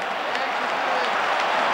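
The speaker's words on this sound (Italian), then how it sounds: "applausi a Serena" Steady applause and crowd noise fill a football stadium as Inter's Serena is substituted in a European Cup match against Malmo, an even, distant wash of clapping with a commentator talking over it.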